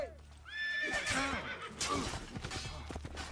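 A horse in Assassin's Creed II gives a loud, close whinny, followed by snorts and clip-clopping hooves, with a bit of background game noise.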